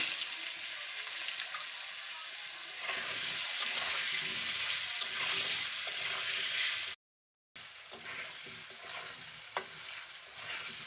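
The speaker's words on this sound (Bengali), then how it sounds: "আলুগুলোকে আমি তেলের মধ্যে ভালো করে ভেজে নেব" Potato pieces fry in hot oil in a pan, a continuous bubbling sizzle with stirring scrapes throughout, interrupted by a short silent cut before the frying resumes.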